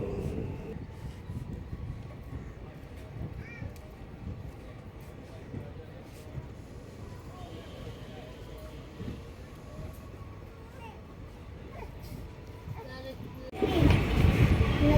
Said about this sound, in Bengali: ডালখোলা স্টেশন থেকে ট্রেন ছেড়েও দিয়েছে